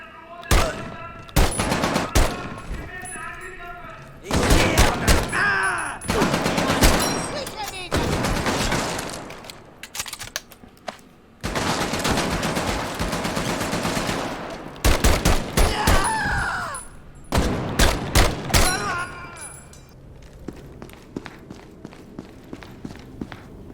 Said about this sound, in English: The gun sounds are good, and the enemies aren't spongy, making the weapons feel powerful.